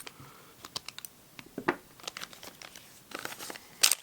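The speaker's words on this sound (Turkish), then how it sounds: "Paketi açalım." A foil package of Darkside hookah tobacco is torn open, giving irregular crinkling, crackling and tearing bursts at close range, with a sharp rip near the end and no speech.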